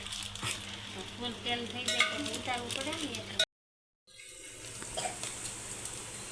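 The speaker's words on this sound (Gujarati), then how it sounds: "નાખો મમરી હા અમારે જો હેઠે જમીન ઉપર અમારે તેલ ગરમ થઈ ગયેલું છે" Puffed rice going into hot oil and frying on a stove set up on the floor, a steady close sizzle with stirring clatter, cut by a brief silent gap before the frying resumes.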